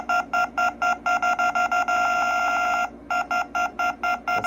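Alarm clock built into a toy ATM beeps in rapid, evenly spaced bursts, breaks into one long continuous tone, then returns to steady pulsing, loud and close with no talk.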